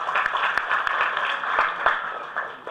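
An audience at a Tamil film promotion event bursts into applause, with a dense, steady patter of clapping that holds at an even level and thins slightly at the very end.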